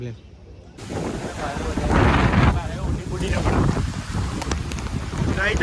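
A strong windstorm with rain roars and gusts around the microphone, a deep rumbling wash that swells and eases, while people speak now and then beneath the noise.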